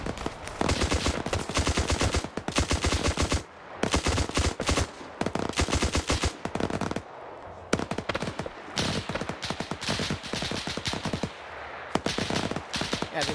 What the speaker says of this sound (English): Submachine gunners are just pinning these guys down.